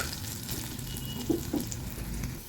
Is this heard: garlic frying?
yes